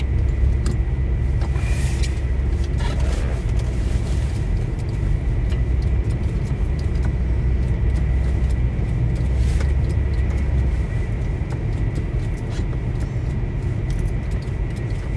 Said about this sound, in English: I can see the traffic backed up on I-5